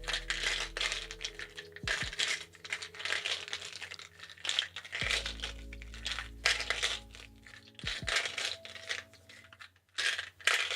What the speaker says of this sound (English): This is how we shuffle them.